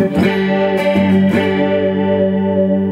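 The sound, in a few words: guitar through chorus effect pedal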